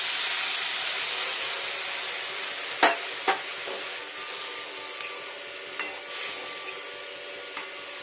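Water poured into a pan of frying potatoes with poppy seed paste sets off a steady sizzle, with a few sharp clinks of a spatula or ladle against the pan.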